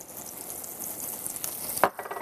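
Butter and sugar sizzle in a frying pan with a steady, moderate hiss that has a few faint scraping ticks and one sharper clink near the end.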